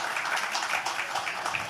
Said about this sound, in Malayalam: നിങ്ങളൊരു കയ്യടി കൊടുക്കണം